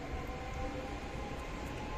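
Trenitalia Pop regional train pulling away from Firenze Rifredi station on a July afternoon, a steady low rumble of wheels and motors with a faint high whine, continuous and fairly close throughout.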